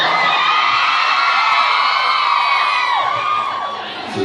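A live comedy-club audience in Denver cheers, whoops and yells loudly and steadily, a dense wall of crowd noise that fades slightly toward the end.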